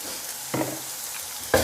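Egg and rice for Thai fried rice are stirred in a hot pan, a loud steady sizzle broken by two sharp scraping stir strokes, close and without talking.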